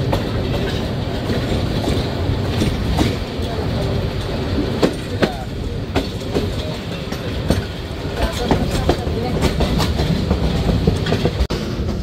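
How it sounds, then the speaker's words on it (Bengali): The Mohanagar Express train on the run from Dhaka to Chittagong, heading for the Bhairab railway bridge over the Meghna river. It makes a continuous loud rumble with rhythmic clickety-clack from the wheels, heard from inside a carriage. "ইতিমধ্যেই আমরা মেঘনা নদীর ওপর নির্মিত ভৈরব রেলওয়ে ব্রিজ দ্বারা"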